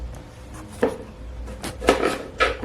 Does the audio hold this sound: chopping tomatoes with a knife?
yes